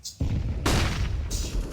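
Grenade detonation in a Counter-Strike match, heavy booming blasts with sharp cracks layered in a short, loud burst of game combat noise.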